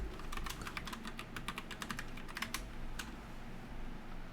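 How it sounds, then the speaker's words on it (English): Typing on a computer keyboard, a quick irregular run of close, crisp key clicks that thins out toward the end, quiet and alone. "I'm having trouble typing, sorry."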